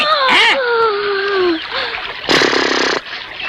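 A person falls into water with a sudden, loud splash that comes late and stands out briefly and sharply, preceded by a yelping cry and voices.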